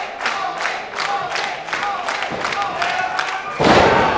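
An arena crowd at an NWA Power wrestling match cheers for the champion, rhythmic chanting and stomping pulses building to a louder roar at the end, under commentators talking.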